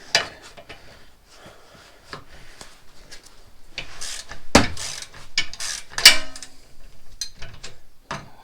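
A 19 mm spanner turns the front suspension top mount nut on a Vauxhall Corsa D. Close, irregular metallic clicks, scrapes and ratcheting bursts come and go, with no talking.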